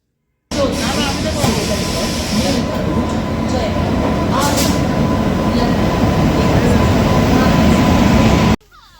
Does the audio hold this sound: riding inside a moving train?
yes